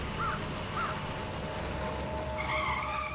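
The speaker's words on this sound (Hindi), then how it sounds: "रुको रुको, गाड़ी रुको।" Car tires screech and skid as the car brakes hard to a stop, a loud, sustained squeal lasting about three seconds with no talking.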